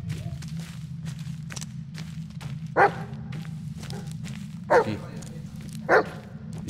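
Dog barks from the Blair Witch video game, three short sharp barks spaced a second or two apart over a steady low droning background, with someone speaking briefly.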